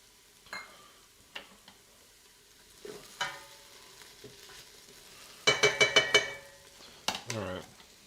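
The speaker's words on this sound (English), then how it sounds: "I'll put like a cup of the beef broth or so in there so I can deglaze, and I'll throw everything in." Beef broth deglazing a hot pan, then beef stew ingredients stirred in, with scattered spoon and pot clinks, a loud burst of sizzling and clatter near the end, fairly close.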